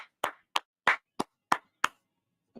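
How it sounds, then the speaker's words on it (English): Short bursts of hand clapping for Zach, six distinct claps in an uneven rhythm followed by a faint seventh, close and moderately loud with no talking. "Let's clap it up for Zach real quick."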